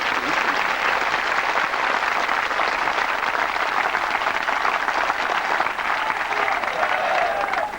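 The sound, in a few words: clapping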